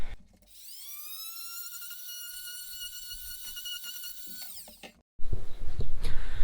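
An oscillating multi-tool, a sonic crafter, cuts off wooden shims under over-cabinet trim with a loud, steady high-pitched whine. The whine lasts several seconds, then cuts out, followed by brief bumping handling noise.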